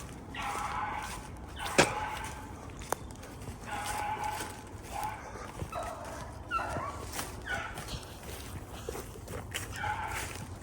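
A hunting dog out chasing a rabbit in the field gives scattered barks and high yips at a middle distance, amid a busy outdoor wash of rustling and movement, with one sharp louder yelp early on.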